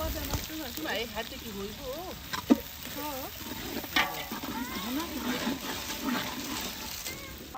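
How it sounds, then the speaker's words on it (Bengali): Onions fry in a pan for khichuri cooked at an outdoor picnic, giving a continuous sizzle with bursts of stirring while people talk nearby over it. "এখন আমরা পেঁয়াজটাকে একটু সময় নিয়ে সুন্দর মতো ভেজে নিব।"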